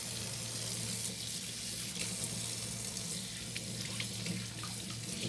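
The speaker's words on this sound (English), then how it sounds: "Then you just rinse your fish out." Cold tap water runs steadily while a freshly cleaned bass is rinsed under it, a broad continuous splashing hiss close by with small irregular spatters.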